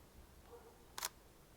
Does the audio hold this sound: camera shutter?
yes